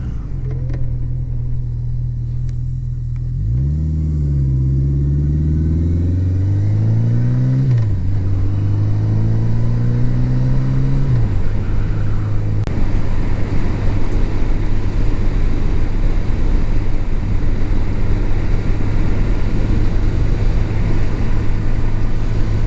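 A 1980 Yamaha XS 1100 Special motorcycle engine runs steadily throughout, with loud revs climbing and dropping through gear changes early on before settling into a continuous close, rumbling drone while riding.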